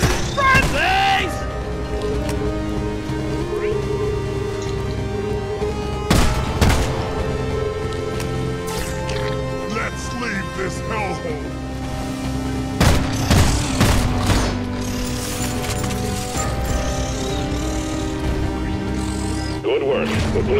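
Gunfire in the video game Deep Rock Galactic erupts in several sharp bursts and booms over a continuous layer of game music, with loud volleys clustered at a few moments.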